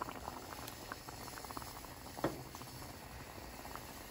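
A pan of tamarind water with garlic bubbles steadily at a low simmer, soft continuous popping and gurgling with one slightly louder blip partway through.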